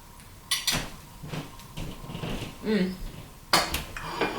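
A spoon working at a strawberry on a birthday cake on a plate, with several close clinks and scrapes of metal on crockery in irregular bursts, plus faint rustling between them.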